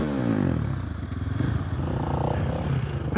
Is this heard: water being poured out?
no